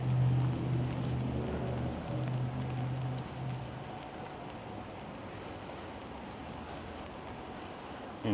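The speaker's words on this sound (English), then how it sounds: "it is raining again. And the rain has started to pick up." Rain falls on a city street in Vancouver, a steady faint hiss with low traffic rumble fading out early.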